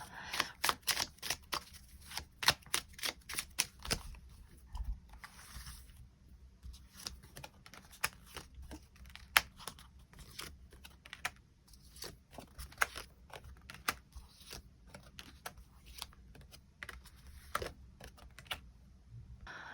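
Tarot cards shuffled and drawn in a quiet room: rapid crisp riffles and flicks in bursts, then scattered soft taps and slides as cards are laid down, close and fairly faint.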